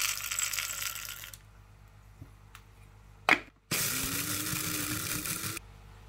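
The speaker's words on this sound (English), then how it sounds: "Let's grind the soybeans inside the coffee grinder" A coffee grinder grinds soybeans into powder in two loud bursts of steady whirring, the first about a second long and the second several seconds, with a short quieter pause and a few small clicks and knocks between them.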